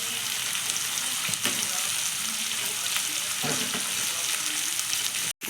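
Garlic fries in hot oil with cumin in a home kitchen, giving a steady, close hiss and crackle throughout with occasional stirring clicks.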